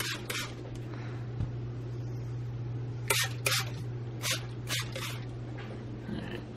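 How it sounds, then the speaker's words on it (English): Several quick spritzes of bleach water from a spray bottle onto a reptile enclosure in an irregular series, crisp hissy bursts close by over a low steady hum, no speech. "Let's spray all the water."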